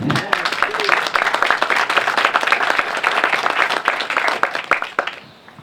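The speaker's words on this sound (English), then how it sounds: "Let's give one more round of applause for Tim." Steady round of applause from an audience at a Kenosha library's 125th anniversary event, thanking a speaker named Tim; dense clapping fills the clip and fades out near the end.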